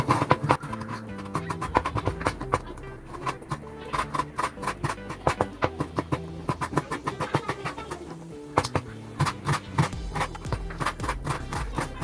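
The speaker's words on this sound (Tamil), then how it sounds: "சிக்கனை அதே மாதிரி நல்லா நைஸாக கொத்திக்கணும்." Raw chicken minced finely with a knife for chicken momos, rapid sharp chopping strikes on a board in irregular bursts, close and crisp, running on with music underneath.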